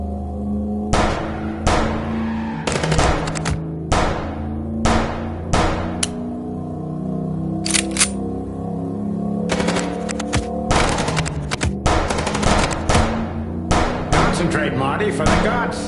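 Gunfire in the game Chicken Police, sharp repeated shots in irregular bursts over a steady engine drone from a moving car, loud and close, with voices talking between the volleys.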